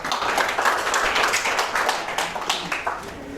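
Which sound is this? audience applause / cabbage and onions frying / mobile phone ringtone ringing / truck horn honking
audience applause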